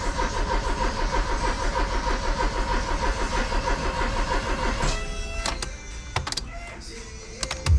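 A 1994 Chevrolet Monza GLS, stored for 19 years, cranks with a steady rhythmic churning for about five seconds, then stops, leaving a few sharp clicks and knocks.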